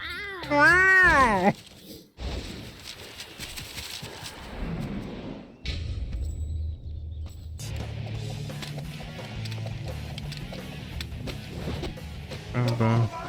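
A person's voice imitates a cat's meow, a couple of rising and falling wails up front, followed by low rumbling background noise and faint talk.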